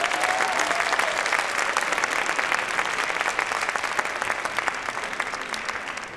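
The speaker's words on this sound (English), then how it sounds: "So give Sherry Christian in action a big round of applause." Sustained audience applause at a Martin Luther King Jr. Day showcase, a dense steady crowd clapping for a performer that holds loud throughout and thins only slightly toward the end, with no voices over it.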